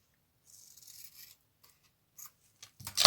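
Paper is cut with scissors in a few quiet snips and a soft sliding cut, ending in a louder close crunch.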